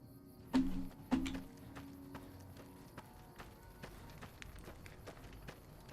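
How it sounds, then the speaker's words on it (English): Footsteps on a ramp in the video game Fallout New Vegas: two sharper, louder steps early on, then a run of quieter, faster taps over a low ambient game background. "Heard your footsteps coming up the ramp."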